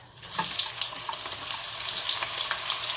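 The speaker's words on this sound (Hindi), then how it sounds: "अब मैं तड़का बनाने लगी हूँ, तो फिर इसमें डालती हूँ।" Steady sizzling of onion frying in hot oil for a tadka for Punjabi kadhi pakora, a continuous crackly hiss with small pops throughout, close by and fairly loud.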